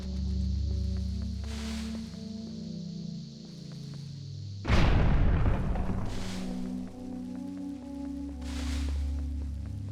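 A bomb blowing up in the video game The Legend of Zelda: The Wind Waker, one loud burst about midway that decays over a second or two, set against steady game music.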